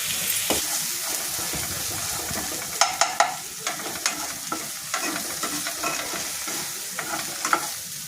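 Onions frying in oil with cumin and curry leaves for banana kofta, sizzling steadily in a pan while a spoon scrapes and stirs with sharp clinks and knocks, close and fairly loud, no talk.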